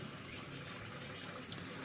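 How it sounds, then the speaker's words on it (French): Hot water runs from a tap into a sink with the plug closed. The sink is being filled to wash a Swiss army knife, with a little Marseille soap added. The rushing flow is steady and even, fairly quiet, with no voices. "Donc on va fermer la bonde, mettre un petit peu d'eau chaude."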